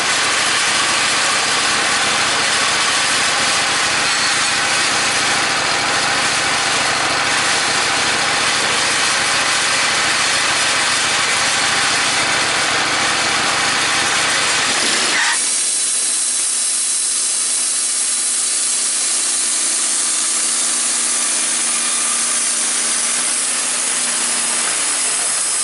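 A Woodmizer LT15 sawmill cuts wood shingles, a loud continuous engine and blade roar for about fifteen seconds that then drops to a quieter idling hum.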